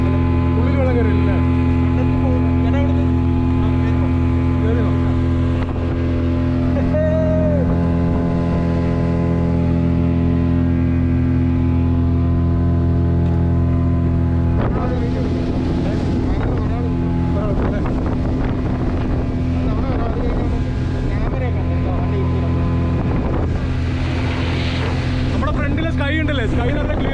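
A speedboat engine drones loud and steady on the Banasura Sagar Dam reservoir, with wind buffeting the microphone and people talking over it.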